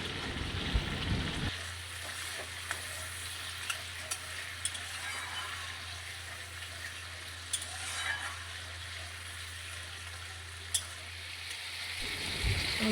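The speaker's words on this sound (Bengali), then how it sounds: "এরপর ওই তেলের মধ্যেই 2টো টমেটো ভালোভাবে ভেজে নেব।" Two tomatoes frying in mustard oil for a Bengali mustard prawn dish, a steady soft sizzle with occasional spoon clinks and stirring scrapes against the pan, fairly quiet and close.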